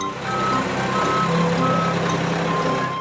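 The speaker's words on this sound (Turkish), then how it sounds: "Bu bir çöp kamyonu." A garbage truck reverses with an engine rumbling underneath, while a few faint, thin tonal beeps sound intermittently over steady road noise, heard at a moderate distance.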